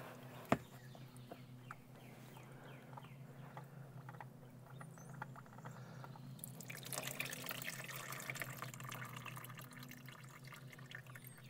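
Oil dripping from a Chevy Spark during an oil change, faint irregular drips with a thin trickle that thickens toward the end, quiet against a low steady hum.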